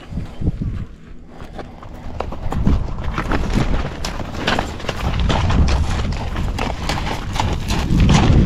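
Horse hooves clip-clop steadily at close range on a ranch, a busy run of dull thuds and scuffs that builds in loudness, with a mule nearby.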